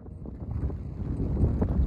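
Wind gusting along a coastal walking trail near Nice on the French Riviera, a steady low rumble buffeting the microphone that builds slightly over a couple of seconds, with no talking.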